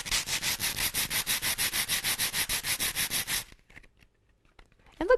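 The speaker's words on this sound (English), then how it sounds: "sandpaper rubbed together." Two sheets of sandpaper rubbed briskly together, a close, loud, rhythmic scratchy rasp of about seventeen even back-and-forth strokes over three and a half seconds, then near silence with a faint knock at the end.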